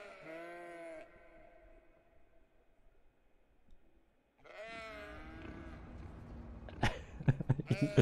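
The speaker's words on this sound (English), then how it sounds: "I've got sheep." Sheep bleat in the Cities: Skylines Industries video game, a wavering bleat at the start and another after a quiet stretch, followed by clattering game noise, with faint talk in the background.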